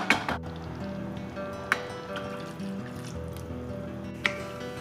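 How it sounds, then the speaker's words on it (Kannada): Water poured into thick chilli chicken gravy in a pan, giving soft liquid trickles and wet squelches at low level, with a couple of brief sharper clinks along the way. "ಇನ್ನೊಂದು ಸ್ವಲ್ಪ ನೀರು ಹಾಕೋತೀನಿ."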